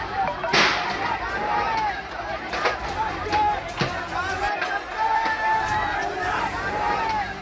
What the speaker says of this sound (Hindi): भीड़ की बेकाबू भीड़ पत्थरबाजी करती दिख रही है